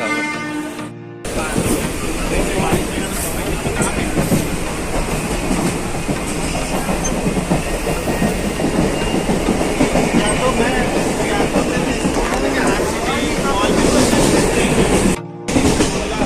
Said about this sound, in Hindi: ये मुंबई लोकल ट्रेन के अंदर के पार्ट थे